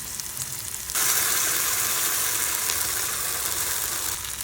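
Ginger, garlic and tomato paste hits a pan of fried onion for chana masala, bursting into a loud, steady sizzle that holds close and continuous.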